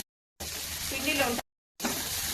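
Punugulu batter fries in oil with a crackling sizzle. It comes in short bursts broken by silent cuts, and a voice talks over it.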